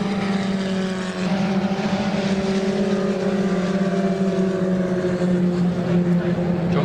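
Historic Formula Ford racing at Donington Park, several near-identical Lotus 61 cars battling closely, their engines droning loudly in steady overlapping tones as they climb toward McLean's.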